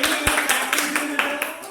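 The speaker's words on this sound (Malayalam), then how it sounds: "സോ ഇവർക്ക് വേണ്ടി ഒരു ബിഗ് ക്ലാപ്പ് പ്ലീസ്." An audience claps for a Thiruvathira dance troupe at an Onam 2025 celebration, a brief burst of quick rhythmic clapping heard under a talking voice.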